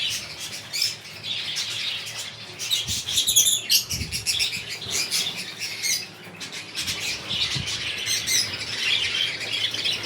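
Budgies and cockatiels in an aviary fill the air with dense, overlapping chirps and squawks, with bursts of wing flapping and a constant busy chatter at close to medium distance.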